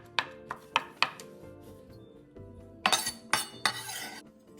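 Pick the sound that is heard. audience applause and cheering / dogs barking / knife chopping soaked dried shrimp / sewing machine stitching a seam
knife chopping soaked dried shrimp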